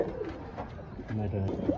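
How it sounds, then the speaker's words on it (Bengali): Pigeons coo softly nearby in a loft of Black Racer pigeons, a few low rolling coos with a faint voice talking in the background. "দর্শক, এখানে দেখতেছেন একটা ব্ল্যাক রেসার কবুতর"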